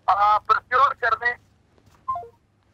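Telephone tones sound while a dropped news-broadcast call is redialled: a quick run of loud, short electronic beeps is followed, after a pause, by a fainter stepped, descending tone.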